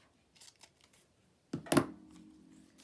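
Scissors snip through a 12x12 paper sheet in a single close, crisp cut, preceded by faint rustling handling of the paper in a quiet room.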